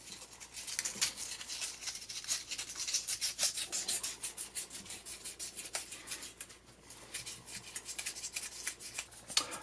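A file or rasp works the outer surface of a hammered silver coin ring, smoothing away hammer marks with a steady run of soft, close rubbing strokes, faint and continuous with no speech.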